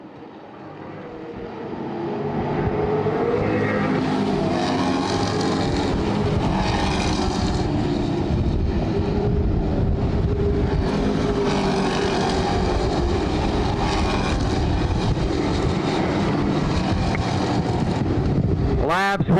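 Stock race cars in an ACT Mega Classique race at Sanair Superspeedway roar past on the oval, a loud continuous engine drone rising and swelling for several seconds with wind buffeting, and a brief tonal sweep at the end.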